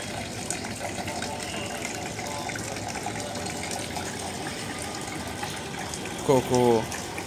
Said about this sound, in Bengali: এখান থেকে পানি নিয়ে ভুট্টু সাহেব গরুকে গোসল করাচ্ছে।